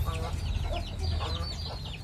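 A rooster in a backyard hobby pen clucks and chatters in short, rising calls over a low rumbling background, close by and moderately loud.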